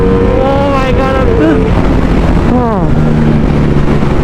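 A Ducati Streetfighter V4 naked motorcycle with 215 horsepower roars at speed, its engine pitch sweeping up through gears in a loud, continuous howl with wind rush, and the rider's voice audible over it.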